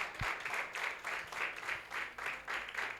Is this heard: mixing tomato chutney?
no